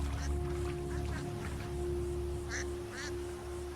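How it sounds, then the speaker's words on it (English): Ducks quack a few times, faint and distant, over a steady hum and ambient noise in the Skyrim video game. "Ducks!"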